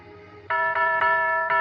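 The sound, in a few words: doorbell ringing in a radio drama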